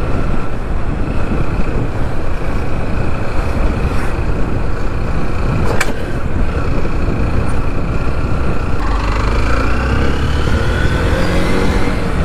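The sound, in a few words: car driving and maneuvering in city traffic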